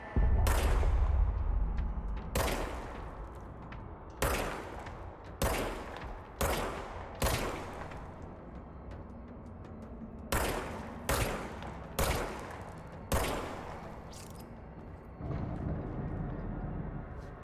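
In the video game Control, the service weapon fires a series of loud, sharp shots, some single and some in quick bursts of two or three, each followed by a booming decay, with quiet pauses between.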